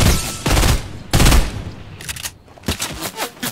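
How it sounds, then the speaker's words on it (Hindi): Rapid bursts of gunfire ring out in Fortnite, several loud volleys separated by short gaps, close and sharp with no talk over them. "दोबारा शूट करो"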